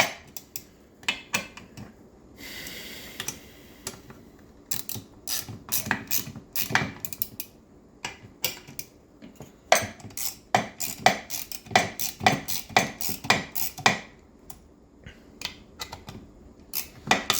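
Crankcase bolts being tightened evenly around the crank bearings of a Husqvarna 55 chainsaw, heard as quick bursts of metallic ratcheting clicks and tool clinks, close and fairly loud, repeating in clusters with short pauses.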